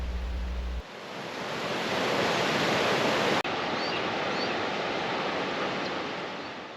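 A mountain river rushing in foggy, cloudy terrain, a broad continuous roar of water that swells slightly and holds steady throughout, with no voices.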